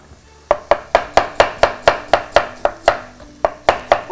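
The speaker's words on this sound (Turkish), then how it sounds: "Bunu rastgele doğrayın çünkü bunlar sonuçta püre olacak." A knife chops potatoes on a cutting board, striking in a quick, steady rhythm of about sixteen sharp, loud, close cuts with one brief pause near the end.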